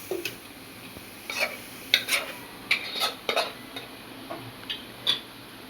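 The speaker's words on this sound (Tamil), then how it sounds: "இதுலேயே நம்ம மட்டன் போட்டு கொஞ்சம் வறுத்துக்கணும்" Mutton frying in a pan for kuzhambu, with repeated spatula clinks and scrapes against the metal in short irregular bursts over a faint, steady sizzle, heard up close without speech.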